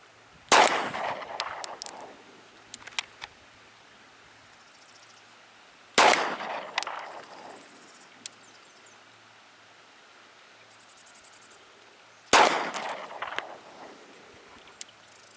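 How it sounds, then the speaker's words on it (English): Three sharp gunshots from a Sccy CPX-2 pistol fired at 25 yards, spaced about six seconds apart, each a loud crack with a short echoing tail, plus faint clicks between shots at an outdoor range. "My brother's shooting the Sccy at 25 yards."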